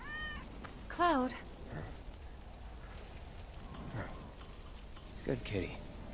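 A cat in the video game Final Fantasy VII Remake gives a short, clear meow, followed by quieter game sounds and brief character voices in the background.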